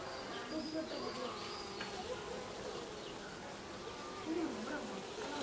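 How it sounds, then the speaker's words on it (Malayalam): Honeybees at a beehive make a close, steady buzzing drone with individual bees whining past, and faint bird calls in the background. "ഈ പോണതാണ് റാണീച്ചല്ലേ?"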